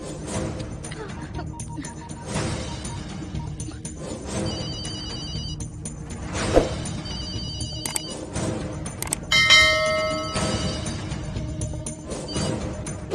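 A telephone rings repeatedly in a Hindi horror film scene, its electronic ringtone repeating in bursts with a brighter chiming stretch near the end, over background music and room sound.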